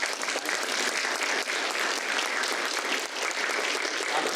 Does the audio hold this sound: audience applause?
yes